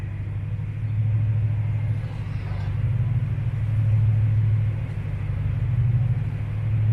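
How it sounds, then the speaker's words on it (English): A slow garage door grinds open with a continuous low motor rumble and drone, steady and fairly loud, with no voices over it. "That is a slow-ass garage door."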